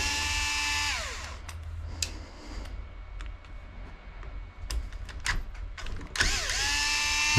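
A hex bit driver turns out 2mm screws on the back plate of an Adam Drake AD4 motor, with powered whirs that wind down at the start and rev again near the end, and quiet clicks and handling ticks in between.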